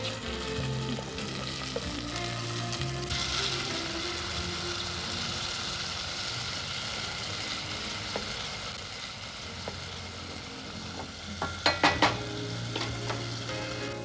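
Yakhni stock goes into browned onions frying in a pot, giving a steady loud sizzle and bubbling hiss with a few sharp clinks of a ladle near the end, no talking.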